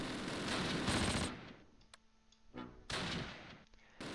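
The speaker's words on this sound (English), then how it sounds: "We are drawing fire here." Gunfire from the World War II tactical game Close Combat: Panthers in the Fog, with loud bursts of rapid shots at the start, a quieter gap with a few isolated cracks, then another heavy burst near the end.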